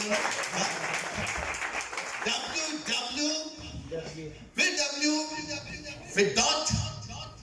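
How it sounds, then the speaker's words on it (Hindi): A church audience at an Urdu sermon bursts into loud applause that rises and falls, mixed with someone speaking energetically over it. "क्या बात है भाई के लिए जरा जोरदार तालियां बजाएं।"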